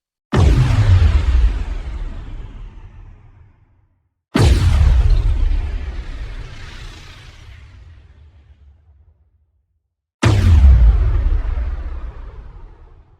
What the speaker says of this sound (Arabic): رقم سبعة: انفجار الخيال العلمي.